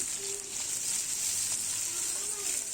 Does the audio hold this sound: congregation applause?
no